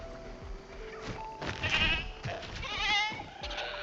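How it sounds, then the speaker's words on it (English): Goats bleat in a dinosaur park video game as carnivores hunt them, several overlapping wavering cries close together over low game ambience. "Oh, they're going for the goat."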